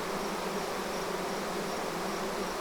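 A swarm of honey bees buzzes in a dense, continuous drone, close and steady, with no voices over it.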